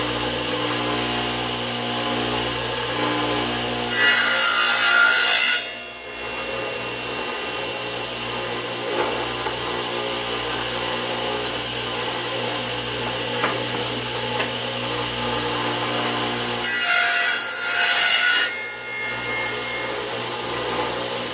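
A table saw with a 7.5-inch blade on an 8-inch machine whines into two short bursts of notch-cutting in wood, separated by a long stretch of steady motor hum.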